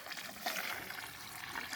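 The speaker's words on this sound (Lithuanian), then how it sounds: "Ir užpilsiam su 10 litrų vandens." Water from a ten-liter measure is poured over a couple of liters of sifted wood ash to make an ash infusion. It makes a quiet, continuous trickling and splashing with no talking.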